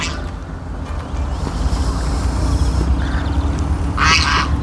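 Geese honk in a brief burst of calls near the end, over a steady low rumble of wind and engine noise, at a yacht club on the Dnipro river.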